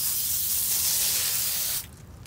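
Spray bottle misting a neutralizing solution onto a calcite specimen after acid cleaning: one long, loud, close hiss of spray lasting under two seconds, then stopping abruptly.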